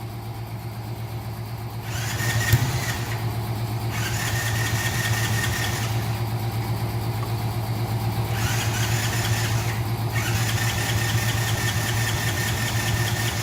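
A quad ATV engine fired up on a test start after a chain and crossmember repair, running steadily and loudly close by, with revs rising and falling in several throttle surges over a constant idle drone.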